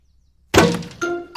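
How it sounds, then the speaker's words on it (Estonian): A cartoon ball smacks into greenhouse glass with a sudden sharp crash, followed by ringing glassy clinks and a second short impact, loud and close after a silent lead-in. "Hei, kes minu kasvuhoone pihta palle loobib?"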